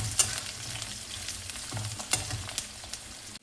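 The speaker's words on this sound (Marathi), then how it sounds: "आता मी त्यात चिरलेले कांदे टाकते आणि हे मंद आचेवरती होऊ द्यायचे" Chopped onions sizzle in a pan over low heat for a dry potato bhaji, with a steady soft crackle and a few sharper spatters and stirring scrapes, close by and with no talking.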